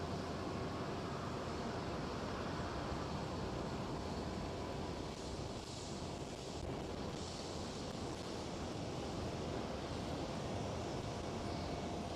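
A Turkish Airlines Airbus A330 taking off at Amsterdam Schiphol, a continuous, fairly distant jet roar that stays steady and broad for the whole stretch, with a wind-like rush and no talking.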